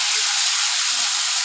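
Cauliflower frying in a pan, a steady close sizzling hiss with no breaks over a brief stretch.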